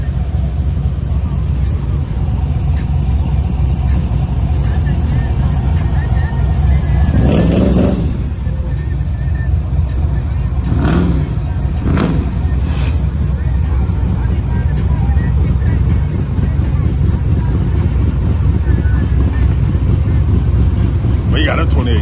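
A Box Chevy engine drones steadily with heavy low rumble, wind buffeting the microphone, and a few louder whooshes of passing traffic mid-way.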